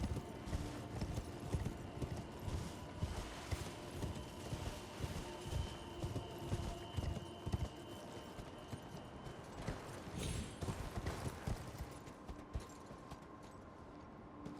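Galloping hooves of a horse in Elden Ring pound in a fast, steady rhythm, quiet and continuous throughout, with only faint other game sounds around them.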